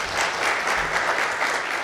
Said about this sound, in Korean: 대표님을 박수로 맞아주시기 바랍니다